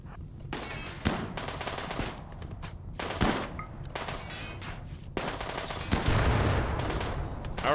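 Rapid gunfire from mini sluggers in a spaceship combat video game, a dense sustained rattle of shots with louder bursts and impacts throughout.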